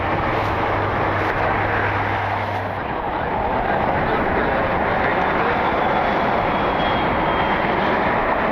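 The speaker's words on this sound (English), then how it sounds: "business jet that's coming in" A business jet coming in to land at Cleveland airport, a steady broadband roar from start to finish, loud and continuous, with a low hum fading out after the first few seconds.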